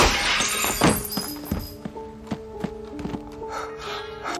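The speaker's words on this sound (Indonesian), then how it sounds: "Sebuah cipratan darah dan suara pecahan kaca" A glass coffee table shattering in a film scene: a bright crash of breaking glass near the start, followed by scattered small taps and tinkling fragments settling over a sustained musical tone.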